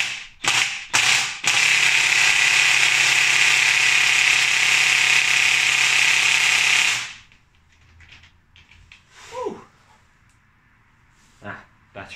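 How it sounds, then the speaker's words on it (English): Impact wrench hammering on a stuck gearbox fill plug of a Nissan Micra K11, a few short bursts then a loud sustained rattling run of about five seconds, close up, followed by quiet handling clatter and brief speech. "if this impact couldn't touch it, I'd never be able to undo it by hand"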